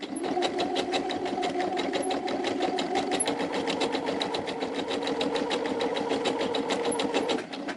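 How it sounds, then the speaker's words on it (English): A sewing machine stitches a design into fabric for an altar decoration, a fast even rattle of needle strokes running continuously at moderate level, close by and alone. "So I'm gonna sew all the design into it"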